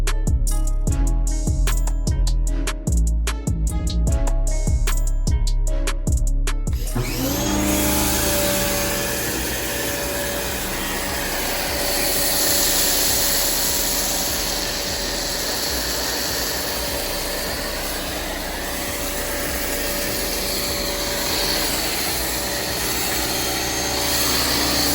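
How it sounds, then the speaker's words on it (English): Compressed air hissing steadily from a CCV turbofan mini blow gun aimed at foam on a car during detailing, a loud continuous rushing blow after a few seconds of choppy bursts, close and alone. "I'll blow this against the foam."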